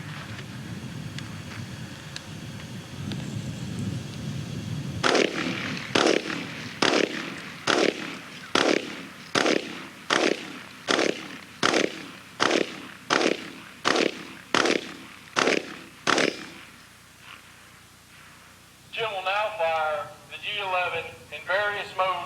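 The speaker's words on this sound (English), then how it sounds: "fire the G11 in 3-round burst mode at the concrete wall to your front" Heckler & Koch G11 rifle firing three-round bursts at a concrete wall, a string of about thirteen loud, evenly spaced sharp reports after low rumble, followed by a voice speaking.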